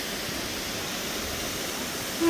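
Horsepound Falls in Savage Gulf, Tennessee, rushes as a steady, broad wash of falling water heard from a distance, soft and unbroken, with no voices over it.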